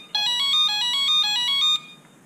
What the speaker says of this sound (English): You'll hear the ESC do its tones.